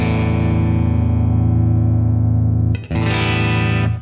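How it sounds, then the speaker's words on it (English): Distorted electric guitar through a TONEX pedal, its reverb mix turned down, sustains a loud chord that briefly cuts out near the end before ringing again with a brighter attack, alone without talk. "If, for example, there is too much reverb and I want to turn the reverb down, I can just go to the pedal, turn the mix."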